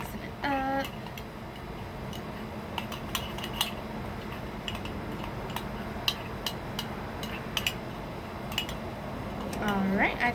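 A utensil scrapes and clinks against a bowl while a face mask paste is stirred to a thick, mud-like consistency, with light irregular taps and scrapes under occasional speech.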